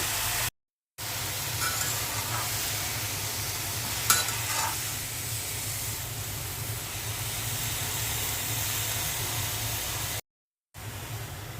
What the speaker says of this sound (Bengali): শাকটা দিয়ে দিচ্ছি শাকের মধ্যে লবণ দিয়ে দিচ্ছি